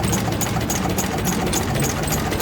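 At an outdoor car show, an engine runs steadily nearby with a loud, even mechanical drone and no breaks or revving.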